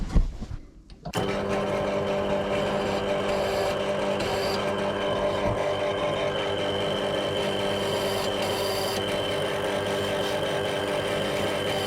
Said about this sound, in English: We'll just stick this in, go around and give them a little chamfer.